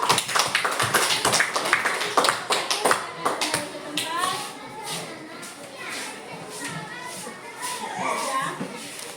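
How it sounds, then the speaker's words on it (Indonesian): Primary school pupils in a combined class 3 and 5 classroom clap for group 1, a burst of brisk, uneven claps that thins out while children chatter and talk over it. "Kita beri aplaus dulu untuk kelompok 1"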